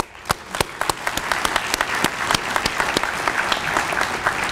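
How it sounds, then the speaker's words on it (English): A large audience at an athletic hall of fame awards banquet applauds steadily, dense clapping with a few sharp individual claps standing out, sustained throughout. "lead this audience in one more round of applause for you"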